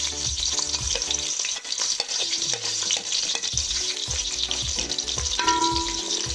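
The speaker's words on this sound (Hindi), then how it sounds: "अब ये थोड़ा सा गर्म हो जाए तो फिर हम इसमें प्याज डालेंगे अपने जी" Onions sizzle and fry in hot oil in a cooking pot for a mutton yakhni pulao. A loud, steady crackle runs throughout, with the clink and scrape of stirring and no voices.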